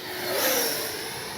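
A Freewing BAe Red Hawk RC jet with a 70mm ducted fan sweeps past on a low, slow pass, its whooshing whine swelling to a peak and then easing off within a second or so.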